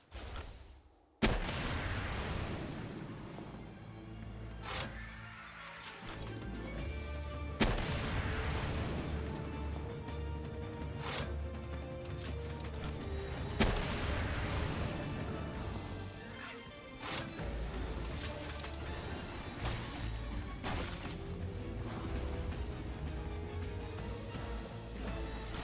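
Seed Mine attacks going off during a mobile game battle against a Frost Stallion, heard as repeated loud explosive crashes and bursts over continuous busy game music and effects.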